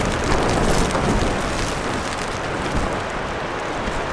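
Heavy rain pounds down in stormy winter weather in a Cairngorms pine forest, a dense, loud, continuous hiss with gusting wind and no voices.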